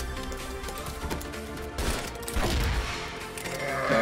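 Rifle gunfire from the VSK-94 in the shooter game Crossfire, on the HMX map, rattles out in a dense burst of shots with crashing impacts, loud and continuous over a busy game soundscape.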